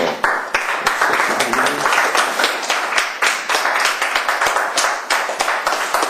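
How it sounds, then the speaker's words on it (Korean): Students clap in a lecture hall, a fairly loud burst of overlapping hand claps from a small group, sustained for several seconds with uneven rhythm. "박수 치고 싶어? 네. 그럼 쳐"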